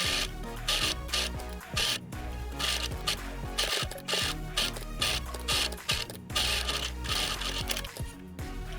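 A sewing machine stitching the nose and chin seams of a handmade fabric summer mask, with rapid mechanical clatter in bursts separated by brief pauses, close up and with no talking.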